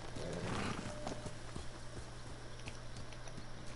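A horse galloping in a video game set in Mongol territory, rhythmic hoofbeats with a whinny near the start, close and steady over a game background with no talk.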